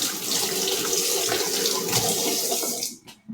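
Cold water runs from a kitchen tap into a bowl while making Turkish yogurt soup, a steady close splashing stream that cuts off near the end.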